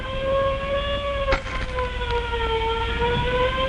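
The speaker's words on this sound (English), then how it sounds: "ain't that the ambulance siren?" A loud, steady ambulance siren from a 1934 film wails with a slowly drifting pitch, close and continuous, with a brief clatter partway through.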